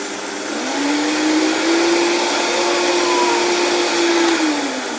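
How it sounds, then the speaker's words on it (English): A Vitamix blender grinds oats into fine flour, its loud motor whine climbing in pitch as the speed is raised from low, then holding a steady high roar before easing slightly near the end. "if you have a Vitamix, you just start on low and then start to bring up the speed"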